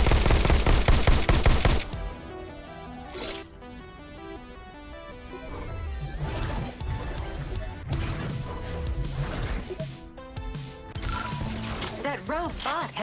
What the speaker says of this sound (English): Robot has a shotgun.